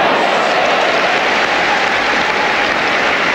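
A tennis crowd at the 1997 US Open applauds a winner in Rafter versus Rusedski, a steady, loud wash of clapping that fills the whole stretch without letting up.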